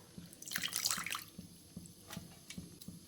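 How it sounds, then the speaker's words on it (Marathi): Spinach leaves being rinsed in a basin of water in a home kitchen during the monsoon season, with a short burst of splashing and dripping followed by lighter scattered drips and sloshes, fairly quiet and close. "आपण सुरुवातीला पालक धुवून घ्यायची"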